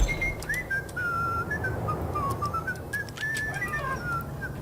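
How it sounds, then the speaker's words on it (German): In the video game Max Payne, someone whistles an off-key, wavering tune in long, sliding notes over a low, rumbling ambient background, a few clicks and thuds scattered through it. "Wer pfeift so schief?"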